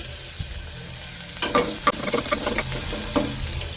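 Ingredients roast in a hot pan with a steady close sizzle, while a spoon scrapes and stirs in a handful of sharp clicks and taps against the pan.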